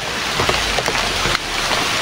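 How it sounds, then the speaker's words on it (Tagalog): Very heavy rain pouring down in a steady, dense hiss, with a few soft thumps and splashes over the wash and no voices. "grabe talaga yung ulan, sa sobrang lakas ng ulan"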